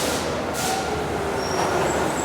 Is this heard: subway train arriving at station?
yes